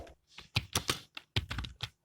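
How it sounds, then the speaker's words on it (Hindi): A computer keyboard is typed on while entering text in a word processor, giving a quick, close run of about eight crisp keystrokes with short gaps between them. "हमने टाइप किया और शिफ्ट के साथ कीबोर्ड से हम लोग जब प्रेस करेंगे"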